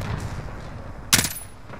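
A short SMG burst in a video game, one sharp loud crack of rapid fire rising suddenly over quieter ambient game noise.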